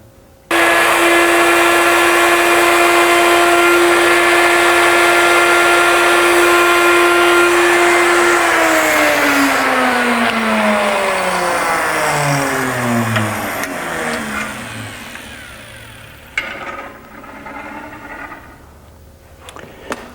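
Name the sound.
power tool milling a mortise in wood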